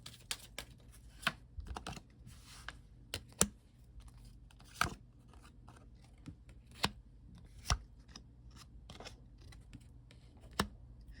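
Tarot cards being drawn and laid down, sounding as soft, sharp taps and card snaps spaced irregularly over a quiet low hum, close by, with no voices.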